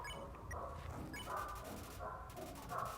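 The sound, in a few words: dog howling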